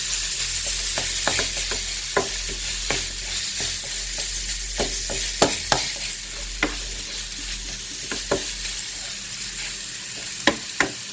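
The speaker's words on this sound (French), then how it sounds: "Bien remuer pour pas que ça fasse des boules" Minced meat is stirred in a sizzling pan, a constant frying hiss broken by frequent sharp scrapes and clicks of the spoon against the pan, close and busy, with no talking.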